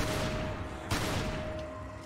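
A player's shotgun firing in Resident Evil 5, one sharp blast near the middle cutting through steady game background noise, followed by a short fading tail.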